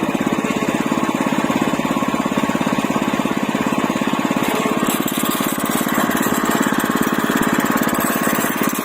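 A walk-behind tractor engine pulls away in third gear from low throttle, a loud, steady, rapidly pulsing chug that runs close and unbroken for the whole stretch, rising slightly in roughness midway.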